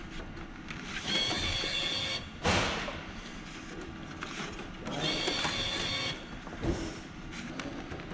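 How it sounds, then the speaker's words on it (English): A Ricoh digital envelope press printer making copies runs with a steady mechanical whir and rattle, close and continuous, with repeated louder sliding bursts as sheets feed through, and no talking. "As well as I will show that the printer is making copies."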